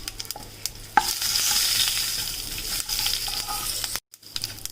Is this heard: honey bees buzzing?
no